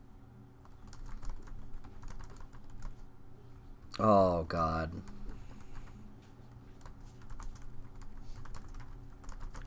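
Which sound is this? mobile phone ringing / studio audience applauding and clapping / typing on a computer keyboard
typing on a computer keyboard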